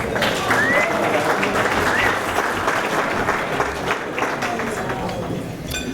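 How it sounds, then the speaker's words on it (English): Sustained applause from a crowd at a tribute dinner honouring an MC, a senator, forming a dense, loud wash of clapping that stays steady and then eases slightly near the end, with faint voices mixed in. "And how about a round of applause for our MC,"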